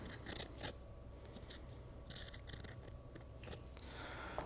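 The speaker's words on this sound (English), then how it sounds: "And I cut along there" Scissors cutting cloth for the lap of a wood surfboard, close and quiet, with several short crisp snips in uneven bursts.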